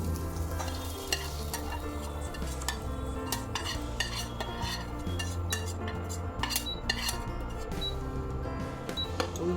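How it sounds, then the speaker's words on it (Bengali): Capsicum fries in a pan while being stirred, with a steady low sizzle and scattered scraping clicks of a utensil, fairly faint and continuous. "এবার ক্যাপসিকামগুলো দিয়ে দিলাম, একটু ফ্রাই করে নিয়ে অন্য বাটিতে ঢেলে রাখলাম।"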